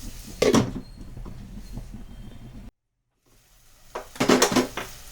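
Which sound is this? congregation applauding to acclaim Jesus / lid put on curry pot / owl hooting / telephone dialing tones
lid put on curry pot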